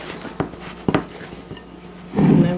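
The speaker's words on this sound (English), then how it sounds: "You want to stir this up completely." Spoon scraping and clinking against a bowl while apple cake batter is mixed, a few distinct knocks followed by a louder, denser stretch of stirring near the end.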